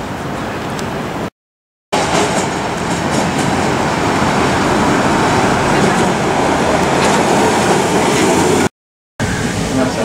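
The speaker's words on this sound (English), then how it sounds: "So it's time to get the free tram into city" A free city tram in Melbourne rumbles past steadily with a low, continuous roar and faint clattering over the tracks. The sound fills the whole stretch with little variation.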